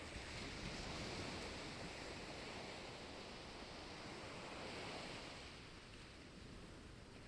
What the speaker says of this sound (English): listening to the rhythmic ocean waves.